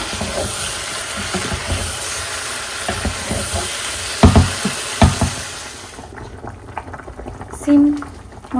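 Cauliflower and potatoes are sautéed in a pan, giving a dense, steady sizzling hiss with a couple of sharp utensil clacks. The sizzle eases off toward the end, and faint background voices are heard.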